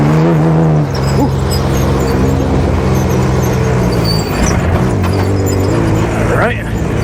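A Baja car driving hard on a race track, its engine roaring loudly and steadily with a low harmonic drone, revving up and down as the wheels spin, with a voice talking over it.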